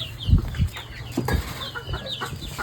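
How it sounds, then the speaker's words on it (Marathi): A hen clucks in short bursts close by, with a few flaps of wings and scuffling among the calls, set against a quiet outdoor farmyard background. "कोंबडी पण आली"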